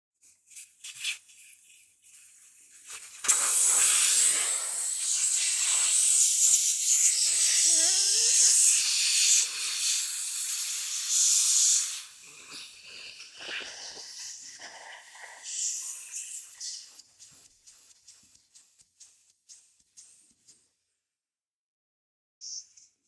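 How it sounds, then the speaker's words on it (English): An airbrush compressor vents its air in a loud, sustained hiss that tapers off over about fifteen seconds, followed by scattered faint puffs and clicks before the sound dies away. "now I can turn off my airbrush. It's gonna get loud, so 1 sec here."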